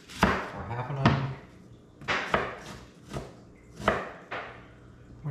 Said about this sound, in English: so chop up one onion, or half an onion